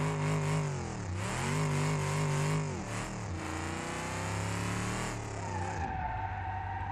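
A modded Corvette in BeamNG.drive revs hard, its engine climbing and dropping through several loud, close swells before settling into a lower, steadier drone, no speech.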